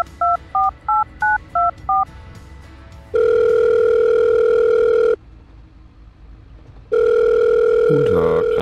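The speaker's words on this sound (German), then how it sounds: "Ich werde mal schnell den Thomas anrufen" A phone call placed in Farming Simulator 22: six quick, loud dialing beeps, then two long steady ringback tones separated by a quiet pause, with no speech.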